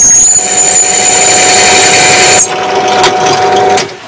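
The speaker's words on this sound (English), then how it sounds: "but it's squealing a lot" A drill bit drilling straight in dry squeals in a loud, steady high-pitched whine over the motor's drone, holding for over two seconds before easing off and the drill winding down.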